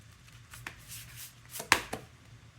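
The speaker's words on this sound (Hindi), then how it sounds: "let's take two more cards" Tarot cards are drawn from a deck and slid out, giving a few soft rasping swishes and one crisp snap, quiet and close in an otherwise still room.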